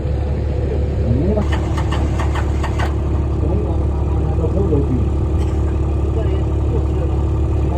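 A John Deere tractor engine running at an outdoor farm auction, a loud, steady low idle with a brief burst of rapid clicking early on, and voices faintly in the background.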